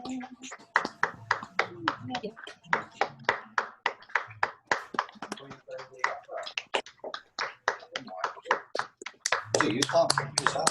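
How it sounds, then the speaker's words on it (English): A group applauds over a video call, with many people clapping at once in an uneven, compressed patter that comes through a little thin, with a few voices mixed in. "let's just give a round of applause for 1 minute"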